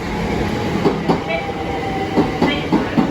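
Eight-coach train at Ashford International station, wheels clicking over rail joints in a steady clickety-clack with a faint tonal whine, loud and close.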